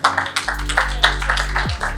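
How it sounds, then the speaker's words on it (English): Scattered applause at a gala dinner for a chef reality show's Super 7 contestants, sharp individual claps rising from the room over a low steady hum. "So massive round of applause to those Super 7."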